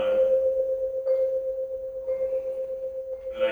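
A vibraphone note sustains while the motor spins the resonator flaps, producing a gently pulsing vibrato tone with soft mallet re-strikes about once a second, close and without talk.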